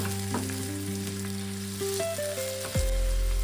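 Tomatoes stirred into onions already fried red in a pan, a steady close sizzle with soft scraping strokes, cooking for an Agri-style clam sukka dish.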